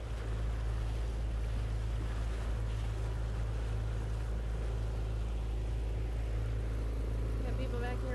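Steady low motor drone and wash of water around a dinghy on a busy morning harbour, with wind noise throughout and a faint voice briefly near the end.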